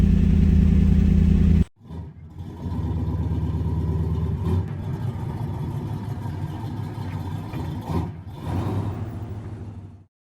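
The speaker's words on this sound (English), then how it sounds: "Cold start, ladies and gentlemen." A car engine cold start: steady loud running noise, a brief sharp dropout, then the engine catches and settles into a rough, clattering idle that stays up close with a small surge near the end, no talking.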